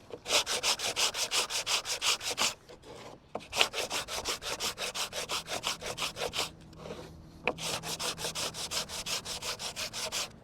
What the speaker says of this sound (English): So I've got 120 grit paper here, a sanding block, and I'm not being careful at all.